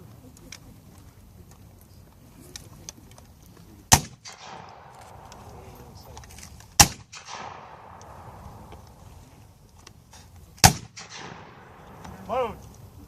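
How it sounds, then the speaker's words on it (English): Reenactor infantry muskets at a Manassas battlefield demonstration go off in three sharp, loud single reports spaced a few seconds apart, each followed by a rolling echo, with murmuring crowd and faint talk in between. "They're going to fire at will."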